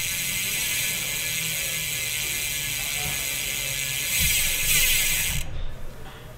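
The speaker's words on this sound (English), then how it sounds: "This is our original torch hub, and this hub's been ridden for a while, so this is typically the kind of sound you would get." A well-ridden original Torch bicycle rear hub freewheeling, giving a loud, steady, fast buzzing ratchet click close up that swells slightly near the end and then cuts off abruptly.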